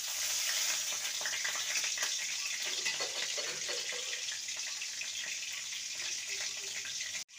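Chopped green chillies fry in hot oil with a tempering of spices, giving a steady, close sizzling hiss that runs throughout and cuts off abruptly at the end, with no voices.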